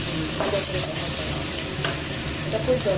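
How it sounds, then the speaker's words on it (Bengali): Dalia khichuri masala being stirred and fried in a pan gives a moderate sizzle with scraping stirs, alongside faint background murmur. "কাঁচা গন্ধটা মেটানোর জন্য ভালো করে কষাতে হবে"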